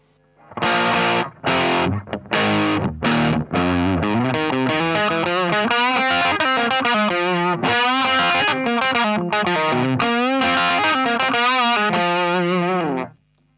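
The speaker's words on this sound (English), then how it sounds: "It makes a pretty good second overdrive pedal on this board" Overdriven electric guitar through a TC Electronic Spark Booster pedal, riffing with a thick, crunchy boosted tone, steady and loud after a few choppy opening stabs, no voices.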